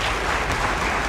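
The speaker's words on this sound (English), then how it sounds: "give yourself a round of applause" Steady applause from a school sports awards audience, a brief unbroken wash of clapping.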